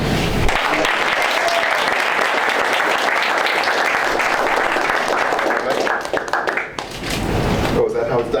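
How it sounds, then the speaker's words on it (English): A graduation audience applauds in a long, dense burst of many hands clapping at once. Near the end the clapping thins and a voice speaks over it. "That's a big round of applause, please."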